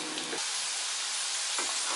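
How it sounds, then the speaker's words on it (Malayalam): Masala peanuts deep-frying in hot oil, a loud, close, continuous bubbling sizzle and hiss that swells and settles without pause and with no voices. "നല്ലോണം കാഞ്ഞ എണ്ണയാണെങ്കിൽ നമുക്ക് ഇട്ട് ഏതാനും മിനിറ്റുകൾക്കകം തന്നെ വറുത്ത് കോരാൻ"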